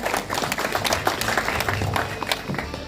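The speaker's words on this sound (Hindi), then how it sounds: "तालियों" An audience claps at a public tribute event for a fallen soldier, producing dense, continuous applause with many overlapping claps at moderate loudness.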